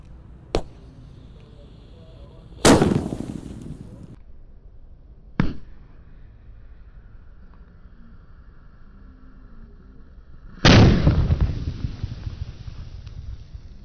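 Roman Candle bazooka fireworks and firecrackers go off inside a hole dug in the ground: four sharp blasts, two small pops and two big bursts, each with a rushing, crackling tail that fades into near silence.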